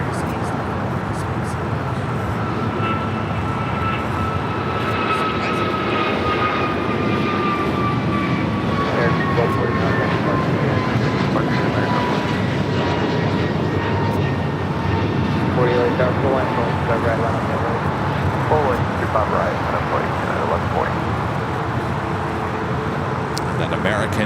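A jet airliner powers up for takeoff on runway 25 right at LAX, a broad, steady roar with slowly gliding whine tones that holds throughout, heard from some distance with faint traffic-like background noise.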